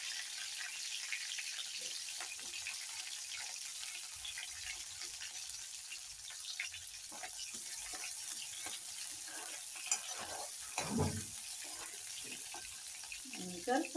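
Curry leaves and green chillies crackle and sizzle in hot oil for a raw banana stir-fry, a steady hissing bed with sharper pops and spits near the end.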